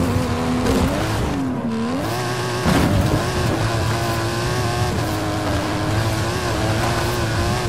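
A Mike Steel stunt car with an upgraded engine and suspension in Forza Horizon 5 drives hard, its engine droning loudly and steadily with rising and falling revs and a brief surge partway through.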